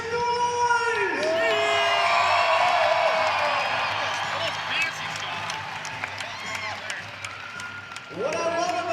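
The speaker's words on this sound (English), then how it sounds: "let's make some noise!" A college wrestling crowd at a Nebraska versus Utah Valley dual meet cheers and applauds loudly, a sustained roar of clapping and whoops, with an announcer's amplified voice at the start and end.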